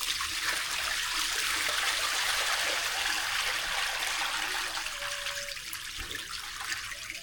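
Wheat grains swish and splash as they are washed by hand in water, a steady close rushing and sloshing that carries on throughout with no talk.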